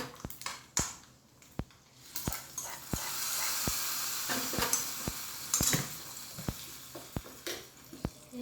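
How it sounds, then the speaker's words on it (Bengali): Hot dal tempering poured into chutney, setting off a rising sizzle and hiss in the middle, surrounded by a series of sharp, regular tapping knocks from a utensil against the vessel, close and fairly quiet, no speech. "ডালের ফোড়নটা আমার হয়ে গেছে, ওটা আমি এবার ওর মধ্যে ঢেলে দেবো"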